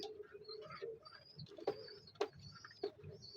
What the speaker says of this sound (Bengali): খুব সুন্দর পাকিস্তানি পেয়ার আছে পাকিস্তানি কামাকার